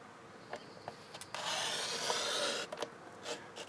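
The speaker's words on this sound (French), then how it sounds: "Alors d'abord je vais couper jusqu'à la seconde ligne." Paper being cut along a marked line while making a gift pouch, a soft rasping scrape that swells into a steady cutting sweep for about a second, with quieter taps and rubs around it.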